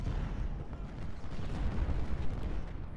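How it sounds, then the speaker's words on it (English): Massed musket salvo from a Civil War brigade in the strategy game Ultimate General: Civil War, a dense continuous crackling rumble of battle fire that stays loud and steady throughout with no speech. "They'll just fire another salvo off."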